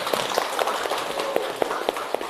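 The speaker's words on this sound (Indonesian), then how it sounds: "Oke, tepuk tangan untuk kita semua." Classroom applause after a game in a lesson, a lively, fairly loud spread of students clapping with sharper individual claps popping out of the mix.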